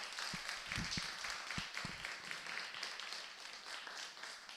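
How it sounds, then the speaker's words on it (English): Audience applause for the Myanmar team at an Earth Day cleanup conference in Penang, a sustained moderately distant clapping wash with a few louder thumps early on. "give applause to Myanmar team."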